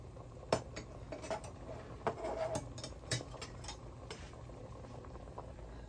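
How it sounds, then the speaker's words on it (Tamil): Pumpkin and soaked parboiled red rice simmer in a pot for Jaffna odiyal kool, giving a soft steady bubbling bed with occasional light clinks and taps of a utensil against the pot nearby. "இப்போ இந்த பூஞ்சிக்காய் நல்லா அவிக்கட்டும் இந்த குத்தரிசி போட்டிருக்கிறோம்"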